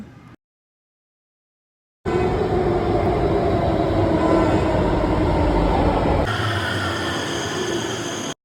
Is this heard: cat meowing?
no